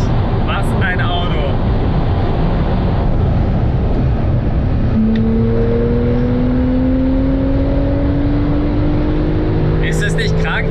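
A Porsche 991.2 Turbo accelerates hard in fifth gear, its loud close engine drone steady beneath a rising whine and heavy rushing wind noise.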